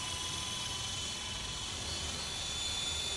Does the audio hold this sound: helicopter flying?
yes